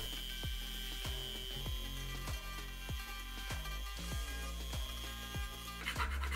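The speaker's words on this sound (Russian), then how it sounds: "Наносим разметку и проделываем отверстие с помощью гравера." A handheld rotary engraver bores a hole through a plastic enclosure, giving a steady high whine broken by repeated short grinding bursts as the bit is pressed in, close and fairly quiet, with no voices.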